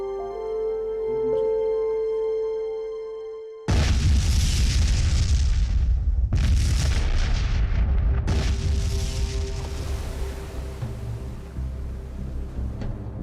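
Blasting charges peeling the concrete cover off a dam: a deep, loud boom bursts in after a tonal lead-in, followed by further heavy rumbling blasts and a long rolling, echoing decay.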